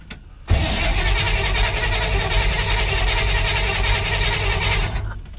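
A 1964 Chevrolet Impala, sitting unused for ten years, cranks briefly and then fires up into a loud, steady engine roar that holds for several seconds before cutting off abruptly.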